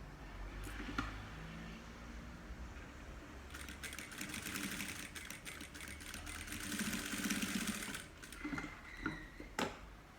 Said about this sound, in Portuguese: Se a máquina não costurar, vai rodando o volante na mão devagar nas partes que ela enroscar.